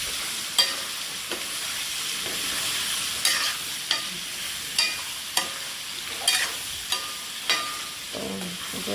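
Mango pieces with cumin frying in a pan, a low sizzle running under repeated sharp scrapes and knocks of a spoon stirring, roughly a dozen distinct strokes spread across the stretch, close and clear, no talking.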